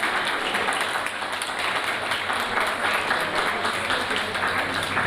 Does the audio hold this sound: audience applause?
yes